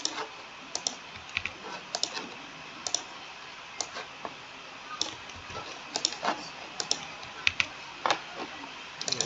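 Keys on a computer keyboard are tapped in scattered bursts and single clicks, fairly close and quiet, with short pauses between strokes and no voices.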